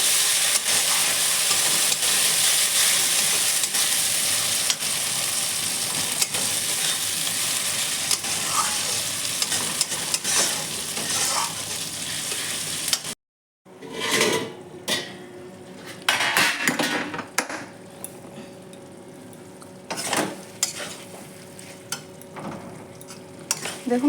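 Mutton curry masala with turmeric sizzles and fries in a pot as a spoon stirs and scrapes, loud and continuous at first, then after a brief break quieter frying with clinks and scraping of utensil against the pot.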